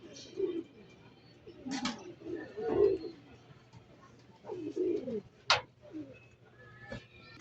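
A released racing pigeon from a Sariaya loft gives several soft, low coos, and brief wing flaps sound in short bursts among them, with outdoor background noise and no talk.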